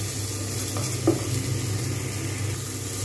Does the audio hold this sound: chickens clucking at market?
no